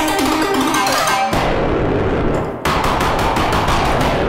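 A loud, harsh burst of synthesized noise like an electronic explosion, made with Plogue Chipsounds, shifting into rapid rhythmic crackling pulses that sound like chiptune gunfire.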